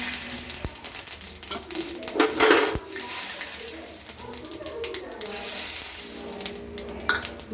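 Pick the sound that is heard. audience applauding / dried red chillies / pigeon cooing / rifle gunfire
dried red chillies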